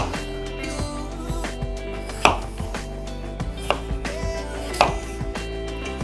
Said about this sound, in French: Je coupe mes pommes de terre en gros morceaux.